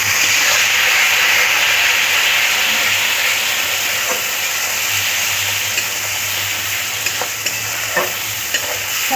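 Hyderabadi-style chicken curry sizzles loudly in a pan after a splash of water goes in, a strong continuous hiss and steam with occasional stirring scrapes, close and without speech.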